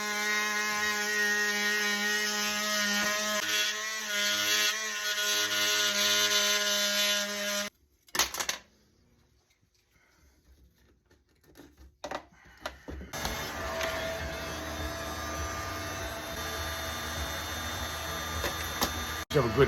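An oscillating multi-tool cuts into a Harley-Davidson motorcycle part, giving a loud, buzzing, steady whine for several seconds. It then stops into near silence with a few knocks before the buzzing resumes, rough and loud, through to the end.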